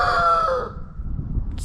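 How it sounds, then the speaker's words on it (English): A rooster crows close by in a freezing winter garden, one loud drawn-out call fading out, followed by quiet outdoor background. "every time I come out here to film, that rooster starts talking at us."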